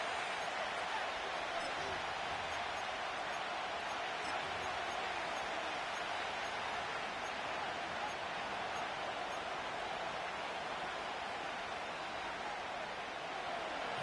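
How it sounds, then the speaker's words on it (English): Steady broadband roar of a football stadium crowd during an NFL game between the Bills and Dolphins, holding loud and continuous throughout without clear peaks, building noise before a third-and-long play. "The crowd cranking it up another notch before 3rd and long"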